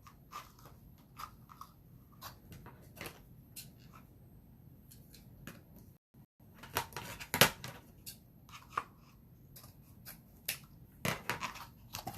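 Scissors cut coloured pieces of paper or vinyl for a craft project, with repeated sharp close snips at an uneven pace and a brief louder cluster of cuts midway.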